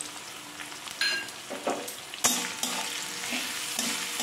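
Sliced onions with salt fry in a pan for a masala dosa filling, a steady sizzle with a few sharper scrapes and clatters of stirring, close and fairly loud throughout, no voices.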